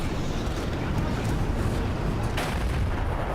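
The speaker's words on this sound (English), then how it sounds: "Catch another break here in just a second when he bounces another shot off me." A tank cannon shot glancing off armor in War Thunder, heard as dense, continuous rumbling battle noise with a sharper crack near the end, no clear separate impacts.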